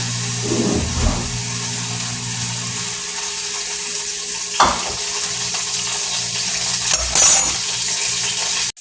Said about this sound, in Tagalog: inumpisahan ko na pong mag-isa ng sibuyas